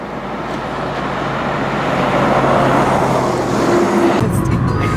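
A car drives steadily toward Quincy with constant road and engine rumble from inside the vehicle, the noise building slightly before a thump and a drop near the end.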